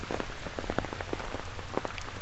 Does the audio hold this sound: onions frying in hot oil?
no